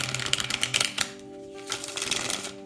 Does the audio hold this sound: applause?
no